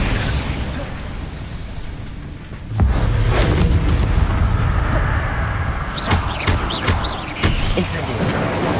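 Bombarda blasting spell explosions in Hogwarts Legacy: a heavy boom hits near the three-second mark and leaves a sustained roar, followed by several sharper bursts and debris cracks, loud and close.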